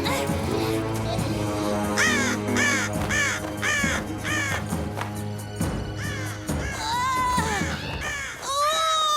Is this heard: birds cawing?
yes